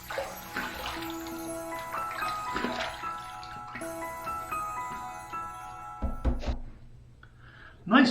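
Tap water runs and splashes close by while a razor is rinsed between shaving passes, with clinks and shifting flow, then the water stops before a short final knock.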